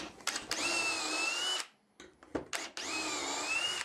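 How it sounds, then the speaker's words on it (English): A drill with a stop collar bores dowel holes into a 12-inch-wide solid cherry board: two sustained whining runs, each over a second long, separated by a brief gap of clicks and handling noise. "I've got this one has the stop collar set so that it will only drill partway into the board."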